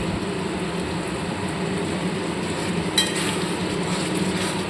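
Fried eggs go into a pan of sizzling masala for egg curry and are stirred. A steady, close, continuous hiss of frying runs throughout, with one light utensil clink partway through.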